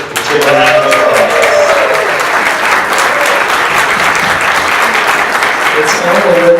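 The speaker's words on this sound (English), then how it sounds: "Let's give a round of applause." A business audience at a Startup Tech Valley event bursts into sustained applause, loud and steady throughout, with many hands clapping together and a faint voice briefly audible beneath it.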